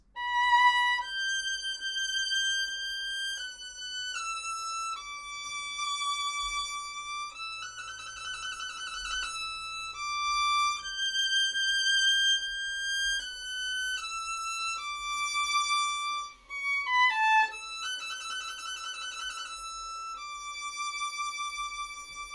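A violin plays a slow passage of sustained high notes, stepping up and down with occasional quick runs, clear and close with no talking.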